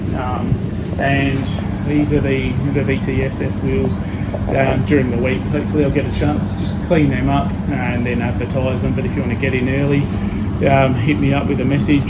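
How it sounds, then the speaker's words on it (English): An air conditioner runs steadily in the background, a constant broadband hum beneath someone talking close to the microphone throughout. "Sorry for the background noise of the air conditioner there."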